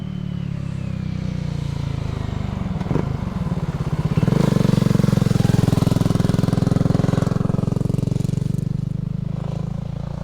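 A 2022 BSA Gold Star 650 big single-cylinder engine idles with a loping thump, then the throttle opens and it swells into a loud, deep, pulsing roar that holds steady.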